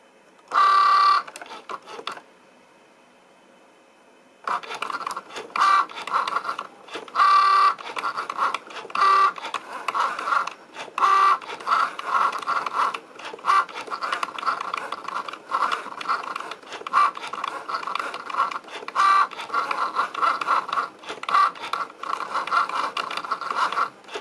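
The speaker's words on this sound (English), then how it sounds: "I've got the Cricut here with the piece of vinyl on it, so I'm hoping it's going to cut okay" A Cricut cutting machine slices a sheet of vinyl, giving a close, busy mechanical whir with rapid clicks and rubbing scrapes, broken by a short quiet pause near the start before the cutting carries on steadily.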